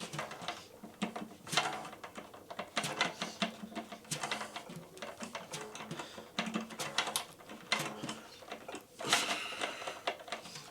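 A tom drum head, pressed down by hand around each tension rod, gives repeated bursts of crackling and creaking in an uneven rhythm, close and fairly loud, with no talking.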